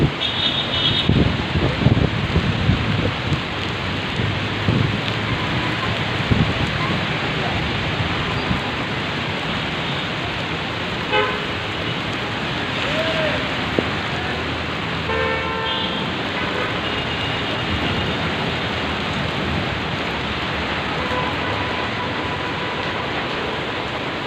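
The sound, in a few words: heavy hot rain falling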